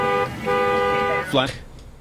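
Car horn honking during a traffic stop by police, a sustained harmonic blare under voices, then a brief rising tone and fading.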